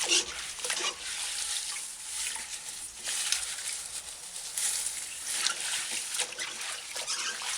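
Fingers rub an herb's stem and leaves clean under water, making a steady trickle with light swishes and splashes, close and fairly quiet throughout.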